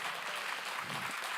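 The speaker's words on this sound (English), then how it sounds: "So one last round of applause for our lovely speakers." Audience applause for a panel of speakers at an indigenous knowledge dialogue event, a steady, even wash of clapping holding at a moderate level throughout.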